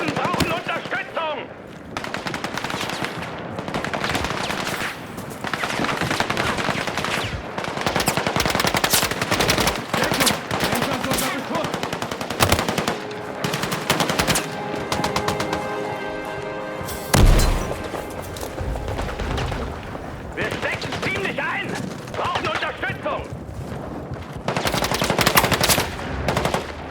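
Sustained gunfire in the shooter video game Battlefield 6, with dense automatic bursts, booming blasts and near-constant firing for almost half a minute, loud and close, with shouted voices under the battle noise.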